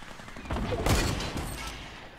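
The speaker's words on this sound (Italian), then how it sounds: "Stanno sparando." Burst of gunfire from the video game Fortnite, a short rapid volley peaking near the middle and trailing off, with a faint voice over it.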